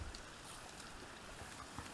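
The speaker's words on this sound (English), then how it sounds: "I can hear the water." Water flowing in a mountain stream in a valley with juniper trees: a faint, steady rushing wash heard from a distance, continuous and without voices.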